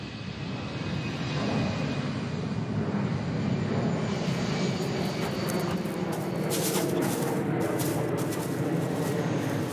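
An airplane at an airport roars steadily and loudly for the whole stretch, a broad continuous engine rumble with no voices.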